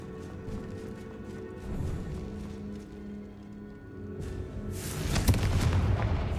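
A Confringo blasting curse goes off in the Hogwarts Legacy video game, a loud booming explosion that swells near the end and trails into a rumbling burst.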